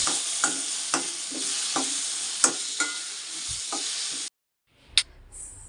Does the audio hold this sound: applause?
no